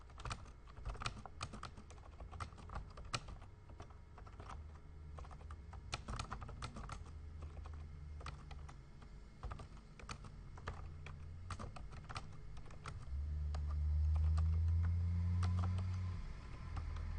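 Close computer keyboard typing of HTML paragraph text, a steady run of quick clicky keystrokes with irregular bursts and short pauses, a low hum underneath and no talking.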